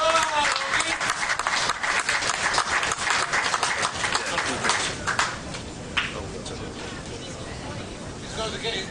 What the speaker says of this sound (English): can we have a round of applause please for our runner-up?